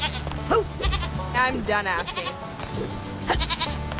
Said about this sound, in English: Come on, you stupid goat.